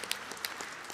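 Energy conference audience applauds briefly, with scattered sharp claps over a soft, steady wash of clapping, faint and distant.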